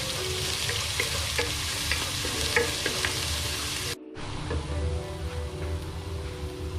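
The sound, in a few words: curry leaves added to hot oil, sizzling for Kerala duck curry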